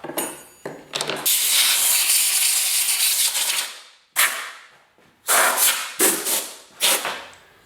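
Compressed air blasts dust out of a Delta 22-560C planer's cutterhead area during blade changing, a loud hissing burst of several seconds followed by shorter, sharp repeated puffs with brief gaps between.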